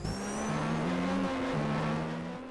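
Race car engine in a Formula-style racing video game, a steady high-pitched whine that steps up through the gears as one car draws past another, close and loud with no talk.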